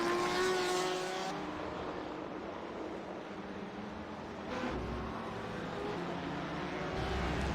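Race cars, including a BMW, power through the corkscrew at Laguna Seca, their engines droning steadily and fairly loud, with the pitch rising and falling as they work through the turns.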